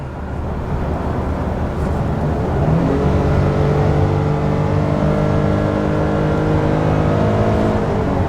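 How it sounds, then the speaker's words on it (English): A 2023 Nissan Frontier Pro-4X with a naturally aspirated V6 accelerating hard while towing, engine drone rising steadily in pitch and loudness through a gear, heard from inside the cab with no talking. "But I'm going to accelerate really quickly."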